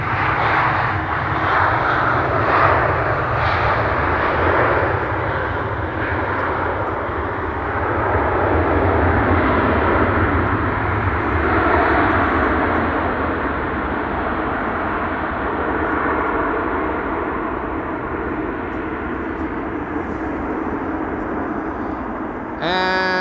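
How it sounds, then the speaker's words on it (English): El Al airliner from Tel Aviv landing at Amsterdam Schiphol, a loud, steady broadband engine roar with a rumbling low end that holds throughout and swells slightly midway, with no voices. "Anyway, Elal is also landing,"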